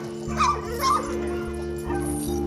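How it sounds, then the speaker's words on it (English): Rescued pit bull puppies whimper and yip close by in short, high, wavering cries that come in a few bursts over a steady low hum. "They're all puppies."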